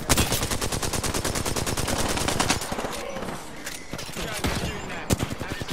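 Rapid automatic gunfire in the Apex Legends video game, a dense run of loud evenly spaced shots for the first half, then sparser bursts and single cracks with game effects in between.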